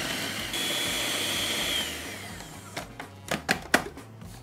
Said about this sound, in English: And then we're just going to blend all that together.